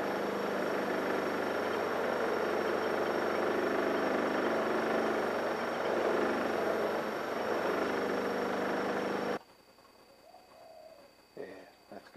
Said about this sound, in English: we'll take it off the lathe